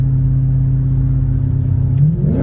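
A cammed Ford BA GT (GTHO) engine idles with a deep, lumpy, loping rumble, close and steady, with a slight rise in revs near the end.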